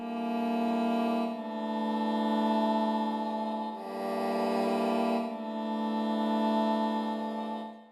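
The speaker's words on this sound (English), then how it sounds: "like those eerie strings, guitar strings being scratched or something" Omnisphere synth preset playing sustained chords with an eerie texture like guitar strings being scratched, held steady and shifting to a new chord about three times, with no voices.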